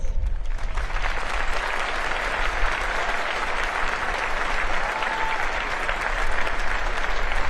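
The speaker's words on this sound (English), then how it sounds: "Please join me in recognizing and applauding these distinguished graduates." Loud, dense applause rises from a large crowd at a Naval Academy commencement ceremony for distinguished graduates, a continuous roar of clapping hands that stays steady throughout.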